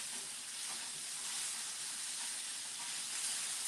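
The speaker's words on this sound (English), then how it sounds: "Once you put them in there, start sauteing, that heat is going to break them bad boys up." Mushrooms and green peppers, with onions, saute in a hot pan, giving a loud, continuous close-up sizzle and hiss with no talk.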